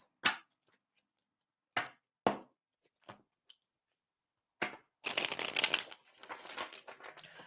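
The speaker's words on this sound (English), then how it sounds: "So I was going to pull some tarot cards, honey." Tarot cards handled and shuffled: several separate sharp card slaps and taps spaced out, followed by a continuous rustling riffle of shuffling that fades into softer shuffling, quiet and close.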